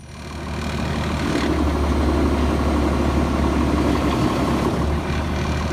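Farm tractor engine idling on a hay field before mowing, a loud steady low diesel rumble that holds evenly for several seconds, close by, with no talking.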